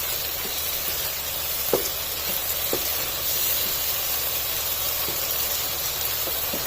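Chicken jalfrezi with freshly crushed black pepper frying in oil, giving a steady close sizzling hiss with a few faint clicks and no voices.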